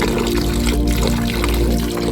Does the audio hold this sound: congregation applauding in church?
no